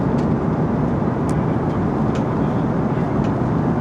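Steady broadband cabin roar aboard a SriLankan Airlines flight, a constant low rumble and hiss filling the space with only faint clicks above it.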